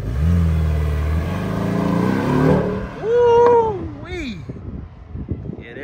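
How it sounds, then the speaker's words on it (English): A Porsche engine revs loud and close, climbing through rising tones as the car pulls away, then drops off while a voice and passing sounds take over toward the end. "Boy pulled up on me in the Porsche"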